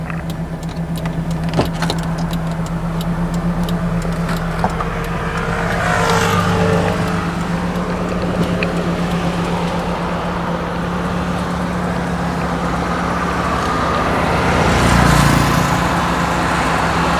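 A car with a broken brake caliper idles and rolls with a steady low engine drone, while sharp intermittent clicks and ticks sound up close, and a louder swell rises near the end.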